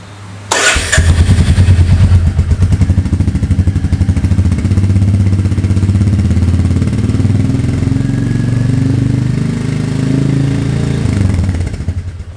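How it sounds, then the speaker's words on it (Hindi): A 2021 Royal Enfield Meteor 350 BS6 motorcycle starts up and settles into a loud, steady single-cylinder idle with a deep, even thump that continues close by for about twelve seconds, with no talking. "इस बाइक का मैं आप लोगों को एक जो साउंड सुना देता हूँ"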